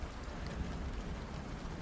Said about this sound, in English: It is raining outside.